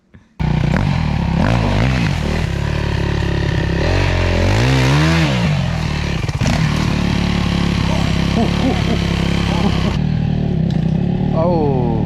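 A motorcycle engine, a dirt bike used off-road, roars loudly and continuously, revving up and down in rising and falling sweeps, with a voice briefly heard over it.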